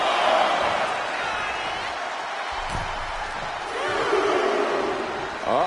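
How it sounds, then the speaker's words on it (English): Virtual arena crowd in the WWE 2K25 wrestling game roars in a steady, dense wall of cheering, with a brief thump partway through. "He's pumped up, and so is this crowd."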